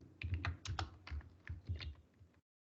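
Code being typed on a computer keyboard, with quick, irregular keystrokes close up that run steadily for over two seconds before a brief silence.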